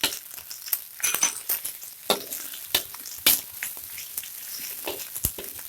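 Sliced green onions frying in a pan for cah kangkung, a crackling sizzle with scattered sharp clinks and scrapes of stirring against the pan, heard close without talk.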